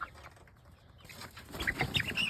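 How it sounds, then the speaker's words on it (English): Isa Brown and Black Copper Marans chickens make short clucks and chirps close by, with a brief flutter near the end, against quiet yard noise. "That's our Isa Browns and our first black copper Marin that hatched."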